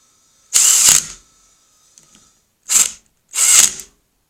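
A power tool tightens bolts on a Harley-Davidson starter motor, running in three short whirring bursts: a longer one first, then two quicker ones after a pause, close and loud against a quiet background.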